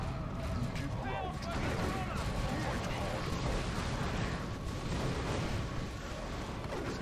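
Gunfire from a Dawn of War II Retribution battle, dense continuous shooting and explosive rumble filling the background, with a commentator talking over it throughout.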